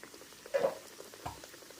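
Puli pitha dropped into hot oil over a medium gas flame, giving a soft steady bubbling sizzle with two brief louder bursts as the dumplings go in.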